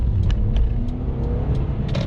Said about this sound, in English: Press the gas and it's really pulling.